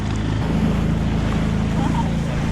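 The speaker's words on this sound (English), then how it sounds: "it's windy" Strong, steady wind roars across the microphone aboard a sailboat off Albania with low rumbling gusts, and water sloshes underneath throughout.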